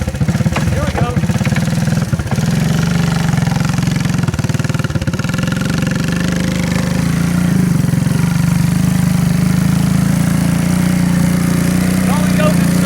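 The engine of an old three-wheeler motorbike runs loudly and steadily nearby, with a continuous low rumble and a slight rise in pitch later on, under occasional faint talk.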